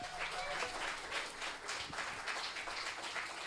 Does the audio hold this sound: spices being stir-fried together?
no